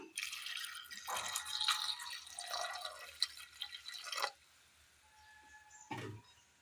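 Water is poured into a pot of curry made with lentils, raw banana, onion and turmeric: a close, trickling splash for about four seconds, then quiet with a faint clink near the end.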